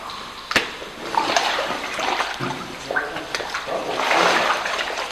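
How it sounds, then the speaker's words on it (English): Steady rushing water fills a tunnel, broadband and reverberant, with irregular splashes and surges rising and falling throughout. "actually listen, you can hear a lot of water running"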